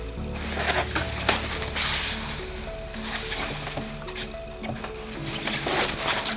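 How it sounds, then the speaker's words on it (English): Sewing machine running through the upper ruffle of a petticoat, a steady mechanical whir with clattering, ticking pulses that rise and fall in bursts, close and fairly loud throughout. "my sewing machine likes to have hydraulics, jump up and down"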